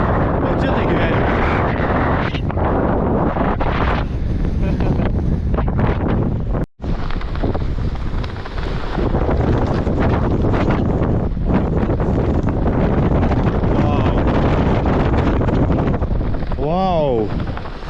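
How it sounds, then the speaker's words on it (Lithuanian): Strong side wind buffets the microphone in a constant heavy roar during a mountain bike ride on Holyhead Mountain, Anglesey, staying loud and unbroken apart from one brief dropout. "Ir vėjas papūsta iš šono."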